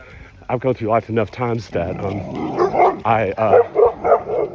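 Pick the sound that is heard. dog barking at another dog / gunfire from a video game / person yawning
dog barking at another dog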